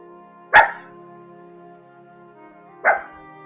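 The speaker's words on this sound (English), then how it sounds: "Sarah likes to sit up right next to the curtains and stare out the window and bark at everything that walks by" Two sharp barks from Sarah, a pet dog perched by the curtains at a window, spaced a couple of seconds apart over a steady low background hum.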